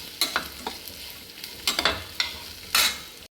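A spoon stirs food frying in a pan while a sweet dish is cooked, giving about five sharp scraping strokes in an uneven rhythm over a faint sizzle, close and fairly loud.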